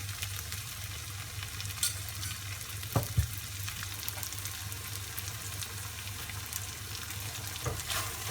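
Potato masala frying in a little oil in a pan, a steady close sizzle that runs the whole time, with a few light clinks and scrapes as it is stirred and no talking.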